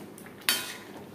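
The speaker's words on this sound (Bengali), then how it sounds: "ঢাকনা চাপা দিয়ে" A lid is set onto a cooking pot of moong dal with fish head, giving a single sharp metallic clink that rings briefly against a quiet kitchen background.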